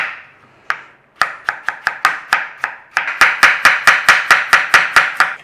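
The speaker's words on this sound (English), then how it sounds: "Other than that, slice your potatoes." A knife slicing raw potatoes on a cutting board: a few isolated chops, then a quick run of sharp evenly spaced cuts, close and crisp with no talking.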